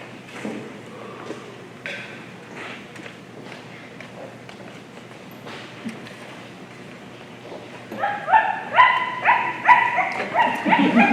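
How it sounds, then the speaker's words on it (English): A dog barks in a quick series of sharp yips, growing louder and more rapid toward the end, close by against a quiet background. "What are you barking at?"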